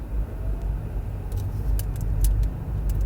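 Car interior on a drive through a Summerlin West community in Las Vegas, with steady low road rumble and engine hum throughout, plus scattered light clicks and rattles inside the cabin.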